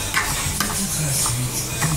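Hard-boiled egg yolks mashed with a fork in a bowl, a few soft scraping and tapping strokes up close, brief and irregular, no talking.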